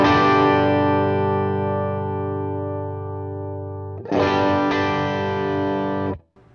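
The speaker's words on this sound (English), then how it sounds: "Comparing the closed versus open sounds, you're gonna hear the most difference the more gain you have dialed in." A distorted electric guitar played through a Walrus Audio Messner overdrive pedal set to its open voicing with high gain: a sustained chord rings and decays, then a second struck chord holds loud and cuts off abruptly, with no talking.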